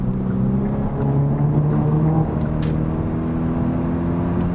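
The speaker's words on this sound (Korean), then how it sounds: "또 저배기량 엔진 치고는 되게 굵고 좋은 소리가 나네요" A low-displacement car engine in sport mode, boosted by a sound generator, produces a deep, thick hum that swells gently during moderate acceleration from inside the cabin, with no voices.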